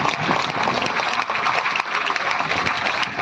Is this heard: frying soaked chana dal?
no